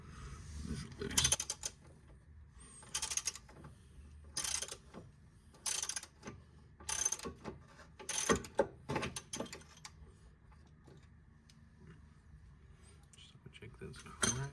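Ratchet loosening a lower control arm bolt on a VT Series 1 car: bursts of rapid clicking, close and clear, repeating about eight times in pauses between pulls, while someone talks intermittently.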